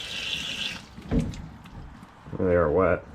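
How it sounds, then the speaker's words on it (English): Water splashes and sloshes as tumbled sodalite stones are rinsed, a short wet burst and clatter, followed by a voice speaking. "Throwing water everywhere."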